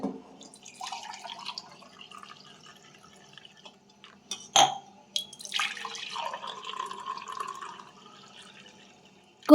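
Warm water and honey are stirred in a glass with a spoon, producing sparse light clinks and small liquid drips with pauses between, close and quiet.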